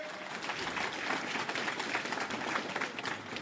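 A crowd at a farmers' honour ceremony claps for the dignitaries on stage, giving a steady, moderately distant wash of applause with no talking heard over it.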